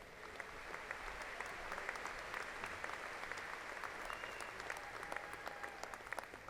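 A university commencement audience gives graduates a steady round of applause, even and continuous throughout, with a hall-like spread that places it fairly far from the microphone.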